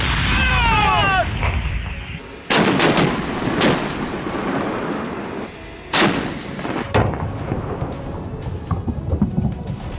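Loud booming bursts of artillery or gunfire in a conflict zone, with several sharp heavy reports about every second or two, the first near 2.5 seconds, echoing over a rumbling background, preceded by a chirping bird-like tone.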